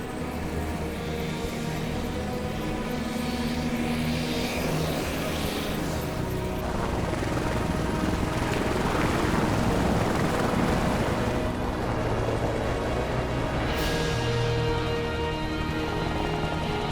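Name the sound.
air ambulance helicopter taking off from a highway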